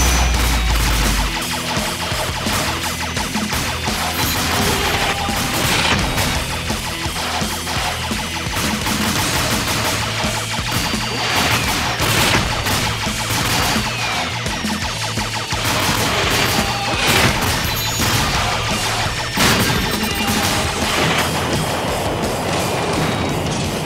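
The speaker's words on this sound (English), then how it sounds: "Just dodge the bullets, shoot the weak spot" Gunfire and explosions from the VR shooter Interleave fill a dense, loud, continuous battle with rapid bursts and crashing impacts under a steady electronic game soundtrack.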